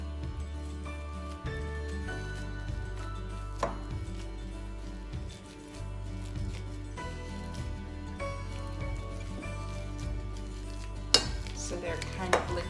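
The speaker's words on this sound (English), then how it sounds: "then I just use the masher and mash these up good" Ripe bananas being mashed with a hand masher in a childhood potato salad bowl for banana bread, repeated soft thumps and clacks of the masher striking the bowl in an uneven rhythm, close and fairly quiet.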